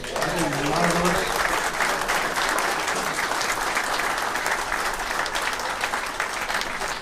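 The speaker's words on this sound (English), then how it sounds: "How about a round of applause for all of these volunteers?" An audience gives sustained applause for volunteers at a large event, a loud, even roar of clapping, with a voice speaking briefly over the start.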